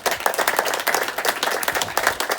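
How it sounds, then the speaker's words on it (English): Club captains get a short ripple of applause from a small gathering, with steady close clapping from several people and no voices over it. "A ripple of applause, a"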